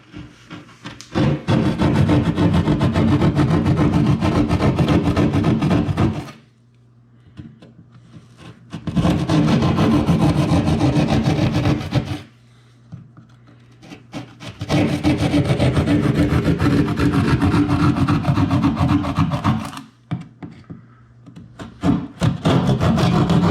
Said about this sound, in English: I'm going to take a keyhole saw, which you can use a keyhole saw or you can use a utility knife, but a keyhole saw is much more handier in cutting this drywall